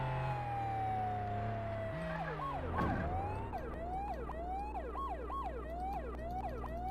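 A police car siren in the Flashing Lights video game switches from a falling tone to a rapid repeating yelp, loud and steady over a low engine drone with no talking.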